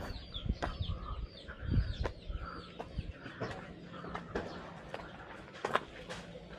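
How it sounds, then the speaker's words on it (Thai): Chickens kept on the ground floor of an old stone village house cluck and squawk in scattered bursts, with soft rustling and faint background voices. "เลี้ยงไก่นะครับ เห็นไหมครับ ข้างในมีไก่ด้วย"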